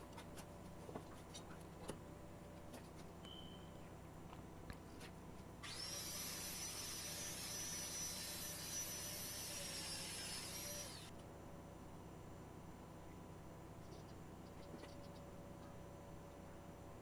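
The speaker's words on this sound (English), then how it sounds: "I'm gonna miter the pieces together, and I'm using the domino right here" A Domino joiner cuts a mortise into a mitered piece for a floor-standing cabinet humidor, a single burst of several seconds of loud whining cutting and dust-extraction noise over a quiet shop hum.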